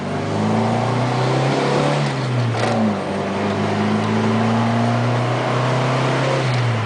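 A 1981 Honda Accord with a 1.6 engine accelerates steadily from inside the car, its engine note rising in pitch as it revs, with a brief dip mid-way before climbing again. The sound is loud, continuous and without any voices.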